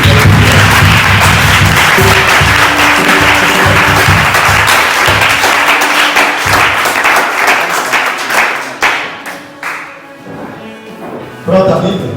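Church congregation at a French-language worship service applauding and cheering, a loud sustained wall of clapping that thins out and fades toward the end, with a voice heard over it.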